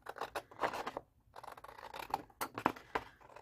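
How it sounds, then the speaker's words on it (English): Scissors snip through a paper box template in a quick run of close, crisp cuts, pausing briefly before several more sharp snips, with no voices. "Now cut along the bigger box, not the inner box."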